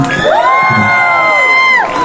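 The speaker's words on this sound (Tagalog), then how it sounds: "Palakpakan niyo na may kasama sigawan." An audience at a live band show lets out one long, loud sustained cheer and whoop with clapping, rising quickly, holding for over a second, then fading.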